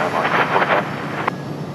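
Rolls-Royce Trent jet engines on an airliner at Raleigh-Durham airport spool up at night in a brief, fluctuating whooshing roar, with voices heard alongside.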